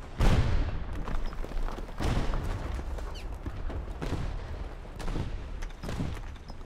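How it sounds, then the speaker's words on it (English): Repeated booming Sturmtiger artillery explosions in a tank video game burst every second or two over a continuous rumbling background of battle noise, fairly loud and close. "Explosions!"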